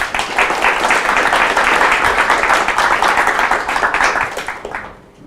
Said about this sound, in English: please welcome him with warm applause